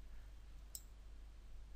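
A single faint, sharp mouse click on a computer while editing photos in Adobe Photoshop Lightroom, set against a low steady hum.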